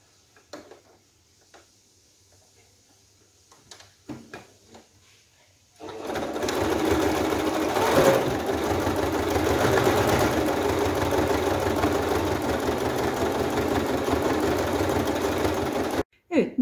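Domestic sewing machine stitching the seam of a hand-crocheted lace summer crossbody bag, running in one loud continuous whir for about ten seconds after a few quiet handling clicks and brief speech, then stopping abruptly.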